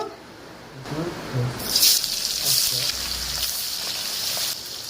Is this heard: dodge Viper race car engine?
no